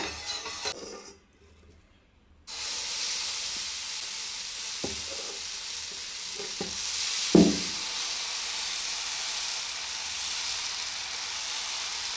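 Dosa batter sizzles and hisses steadily on a hot nonstick pan at home, a continuous close frying crackle broken by a brief quiet gap and a few soft scraping knocks.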